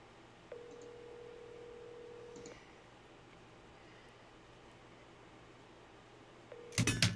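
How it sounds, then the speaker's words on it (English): A phone calling someone back plays a steady electronic ringing tone for about two seconds, then quiet line hiss for several seconds, before a sudden loud burst of noise at the end. "I'm calling her back."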